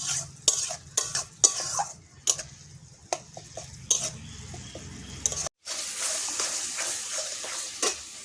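A spoon repeatedly scrapes and taps a pan while spice paste with turmeric fries for a rohu fish curry, sharp stirring clicks over a low sizzle that swells louder after a brief gap.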